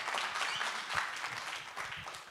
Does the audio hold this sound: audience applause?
yes